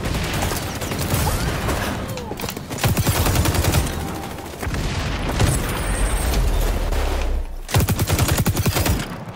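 Rapid gunfire rattles almost without pause during a capture-zone match in the shooter XDefiant. Close, loud volleys overlap with heavier booms in a busy firefight.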